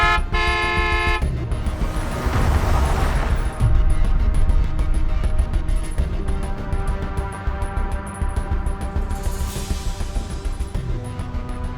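A car horn blares loud and close in a sustained honk at the start, then more horn blasts and traffic noise follow during a tense driving scene in an Indonesian drama.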